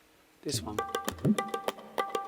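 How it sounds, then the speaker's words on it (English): Indian tabla hits in a music production tap out a quick, syncopated groove of sharp, resonant strikes with ringing pitched tones, with a brief spoken phrase at the start. "I put on some Indian tabla things."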